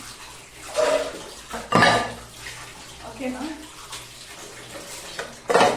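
Dishes being washed under running water at an outdoor spot, with intermittent splashy bursts of water and clinking of pots, close and moderately loud, with a brief spoken word in between.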